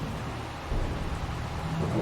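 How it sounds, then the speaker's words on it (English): Rain starts falling on a farm with a steady wash of patter and a low rumbling undertone that swells slightly partway through, continuous and fairly close, no talking. "Oh, it started raining as well."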